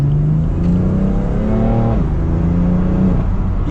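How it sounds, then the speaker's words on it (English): A BMW F80 M3 CS accelerates hard from inside the cabin, its engine note rising steadily with a turbo whine above it, then dropping at a gear change and climbing again. "You hear the turbo?"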